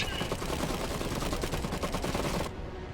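Rapid machine gun fire in the WW1-era alternate-history strategy game Iron Harvest, a loud dense burst of rattling shots that cuts off sharply near the end, leaving a quieter background.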